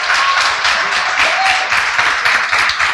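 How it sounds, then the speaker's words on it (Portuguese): A church congregation claps loudly for the Lord during a worship service, with dense, sustained applause from many hands close by for three seconds and no speech over it. "Aplauda bem forte ao Senhor."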